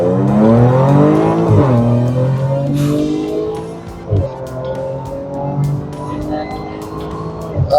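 Audi S4 engine revving hard with a high supercharger whine, repeated rises and falls in pitch, loud and close, with no talking.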